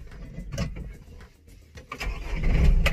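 A Kubota M8540 narrow tractor's diesel engine cranks with a few sputters, then catches and rumbles up to a rough, loud idle nearby.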